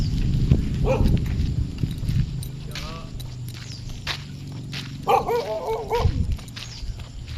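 A dog barks a few times nearby amid outdoor bustle, with clopping footsteps and people talking in the background.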